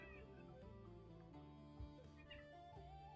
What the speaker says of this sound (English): He just starts meowing and he's feeling really playful.